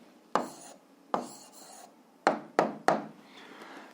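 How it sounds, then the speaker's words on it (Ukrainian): Short scratchy strokes of handwriting on paper, five distinct close scrapes spaced unevenly across a few seconds in a quiet room, as an answer to a physics problem is written out. "Пишемо відповідь."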